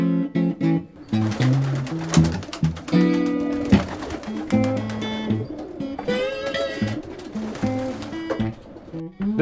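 Racing pigeons in a loft give deep, throaty cooing in repeated rolling phrases, close and dense, with several birds overlapping and no talk.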